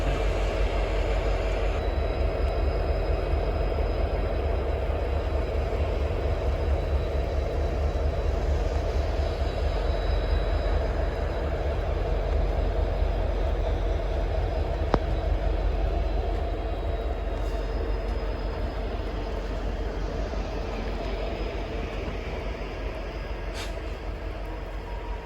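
A train rumbles slowly and steadily past at close range in Weber or Echo Canyon, a continuous low roar with faint squeals on top and no voices.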